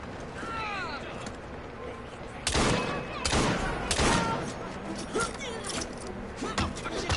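Several sharp gunshots ring out in Assassin's Creed Syndicate, starting with a loud burst and followed by a few spaced shots over game ambience and faint background sounds.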